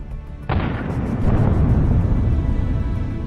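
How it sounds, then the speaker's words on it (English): A sudden heavy blast of mines exploding in a dense minefield in Ukraine, up to five explosions, followed by a sustained deep rumbling roar that lingers loudly. "There were as many as 5 explosions."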